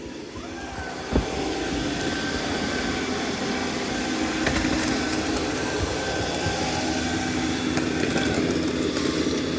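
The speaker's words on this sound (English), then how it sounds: "It can sense when there's large particles and boost suction." A MOVA P10 Pro Ultra robot vacuum runs with a steady, loud whirring drone as it boosts suction near a wall, with a brief knock early on and no talking.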